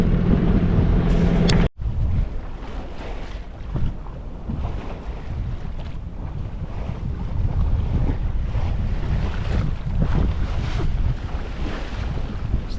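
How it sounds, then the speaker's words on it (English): Wind roars steadily over a sailboat at sea under mainsail and jib, with waves washing against the hull and loud microphone buffeting throughout, broken by one brief dropout early on. "The wind has picked up a little bit and turned towards the southwest, and so we finally rolled out the jib to go with the mainsail."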